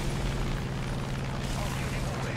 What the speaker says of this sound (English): We are going to throw the bombs like this and see what we can do in a straight line.